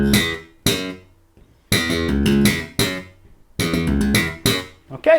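A bass guitar plays a slap riff in close, punchy bursts, thumb-slapped and finger-popped notes snapping out with a repeated note and short gaps of near silence between phrases.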